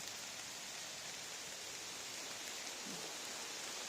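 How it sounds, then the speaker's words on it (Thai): Steady rain falls through a chestnut forest, a dense even hiss filling the space with no clear individual drops, continuous and fairly soft throughout, with no voices. "ตอนนี้ฝนตกนะคะ"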